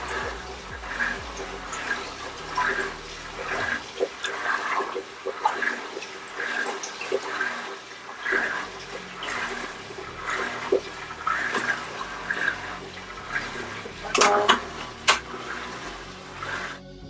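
An aquarium filter runs steadily after being topped up with water, giving a continuous watery gurgle and trickle with a brief louder splash near the end and no speech.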